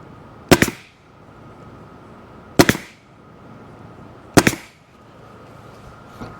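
A staple gun fires staples into vinyl on a jet ski seat, three sharp, loud snaps spaced about two seconds apart over a low room hum, with a fainter click near the end.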